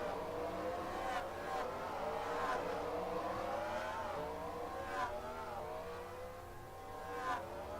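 Race cars from a racing video game crowd a busy pit road during a Quiktrip 500 league race, their engines droning and revving steadily at a moderate, slightly distant level.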